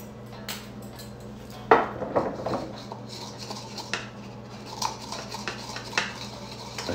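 A utensil scrapes and clinks against a bowl while ground spices are mixed in, with irregular stirring scratches and taps, one sharper knock partway through, close and fairly quiet.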